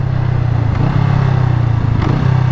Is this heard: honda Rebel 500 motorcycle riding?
yes